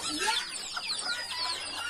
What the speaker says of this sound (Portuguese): os pintinhos já estão piando para entrar para dentro